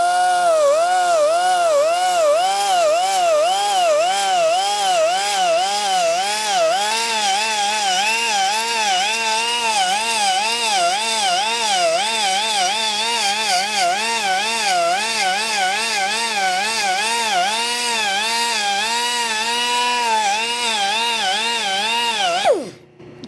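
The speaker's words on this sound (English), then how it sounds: "a custom belt sander" A custom belt sander grinding a bicycle seatpost gives a loud, continuous whine whose pitch wavers steadily throughout, alone with no talk, and cuts off abruptly at the very end.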